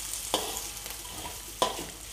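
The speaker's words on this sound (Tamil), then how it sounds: "இதை நல்லா வதக்கிக்கலாம்." Chillies being sautéed in a pan for a kicap dish give off a soft, even sizzle. Two brief scrapes of a utensil stand out, with no talking.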